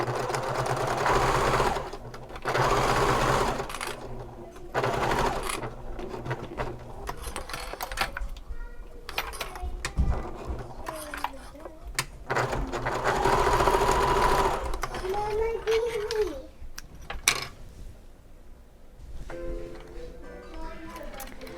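A sewing machine stitching the notches of a fabric bag, running in several loud whirring bursts with short pauses between them and some quiet handling noise.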